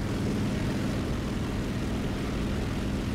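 Propeller aircraft engine in the War Thunder video game, a steady, loud droning hum with a throbbing low-frequency pulse that holds without a break.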